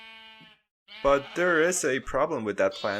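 A short sheep bleat from the video game Minecraft sounds alone at the start. After a brief silence, a voice starts talking.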